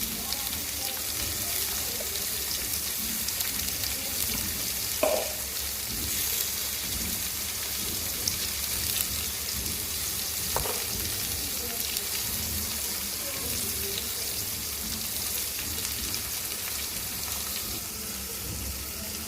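Pumpkin with green chillies, onion and spices fries in a pan, a dense, even hiss of sizzling throughout with a couple of faint scrapes from stirring.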